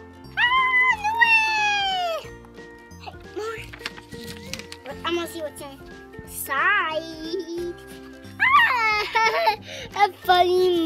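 A cat meows several times in rising, wavering cries, with background music and a voice chattering throughout.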